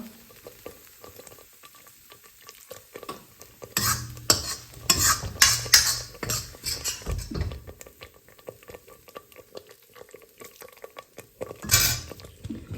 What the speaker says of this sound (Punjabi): ਤੇ ਇਦਾਂ ਹੀ ਘੋਟਣੇ ਨਾਲ ਰਲਾ ਦੇਣਾ